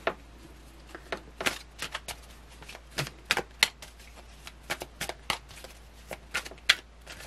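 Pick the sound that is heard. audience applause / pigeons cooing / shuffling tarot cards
shuffling tarot cards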